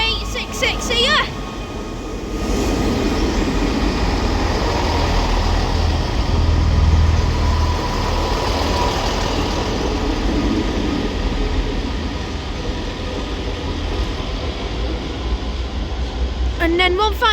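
An East Midlands Railway Class 158 diesel unit departs Liverpool Lime Street on a Norwich service, its engine rumble and wheel noise building and holding steady under the station's echo, with someone speaking over it.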